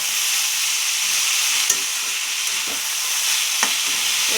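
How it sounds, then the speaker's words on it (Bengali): Spinach fries in a hot pan while being stirred, giving a loud continuous sizzle with a few sharp spatula scrapes and clinks against the pan, and no voices. "পালং শাকটা দিয়ে ভালো করে নেড়ে চেড়ে নেবো।"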